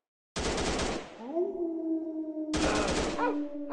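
In a shooting video game, two loud sustained bursts of gunfire are separated by a ringing tonal tail, close and dense.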